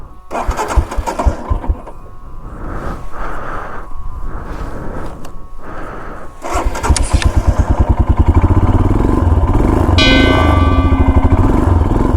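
A motorcycle that has been stalling is cranked in several rough, sputtering bursts before it catches and settles into a steady, loud, close idle for the last several seconds, with no speech.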